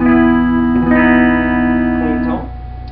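Electric guitar playing a clean tone through a pedalboard, sustained chords ringing with steady harmonics that fade near the end, loud and close with no talk over it.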